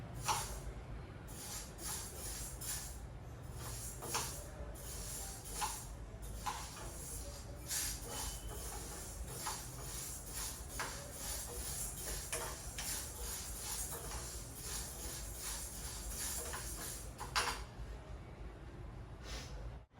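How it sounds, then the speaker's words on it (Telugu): Mung bean flour (pesara pindi) dry-roasting in a pan, a steady soft crackle and hiss with faint, irregular ticking pops throughout, quiet and close, with no voice. "నా వాయిస్ కంటే వేయించే చప్పుడే ఎక్కువ వస్తుంది"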